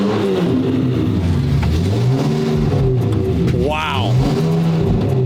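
A straight-piped, rebuilt Ferrari V12 cold-starting and revving, a close, loud, rough engine drone rising and falling in pitch, with a brief sharp rev burst near the end and voices over it.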